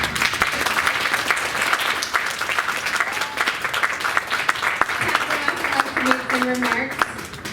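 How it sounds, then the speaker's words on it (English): Audience applause at an oratorical contest ceremony, dense and steady clapping from a large crowd lasting throughout, with voices and cheers rising over it near the end. "So a big round of applause and thank you to everybody."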